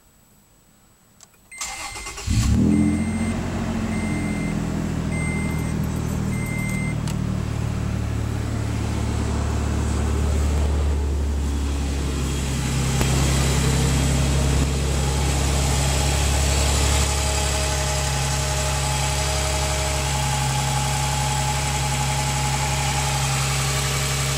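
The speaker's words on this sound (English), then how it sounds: "we're gonna go ahead and start it up and check for leaks before we drive it anywhere" A 2010 Toyota Tacoma PreRunner SR5 TRD starts with a brief crank, catches, and settles into a steady, close, continuous idle hum for the rest of the clip, with no talking.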